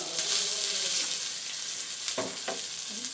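Tomato, onion, chilli pepper, cumin and fenugreek fry in a pan for a traditional obbattu rasam, giving a steady close sizzle throughout with a few scraping stirs near the end.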